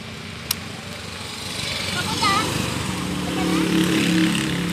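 A Fekon 200cc motorcycle engine idles unevenly, its putter rising and sagging as if about to stall, close by with a sharp click near the start and someone speaking over it.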